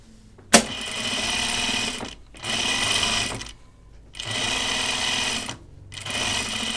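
A sewing machine tacks fabric onto a stiffener: a sharp click, then three steady stitching runs of a second or two each, separated by short pauses, close and clear.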